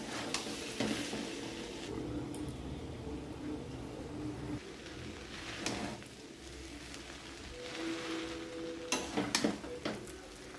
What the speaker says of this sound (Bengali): চাউমিন দিয়ে দেওয়ার পর এটাকে ভালো করে ভেজে নিতে হবে।